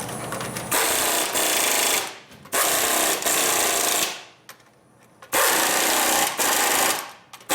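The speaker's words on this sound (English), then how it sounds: "now we're going through and tightening down the 4 cover bolts" Power impact tool driving down the four cover bolts on a Jaguar XJ6 rear suspension, loud close rattling bursts in three long runs separated by short pauses, with no talk.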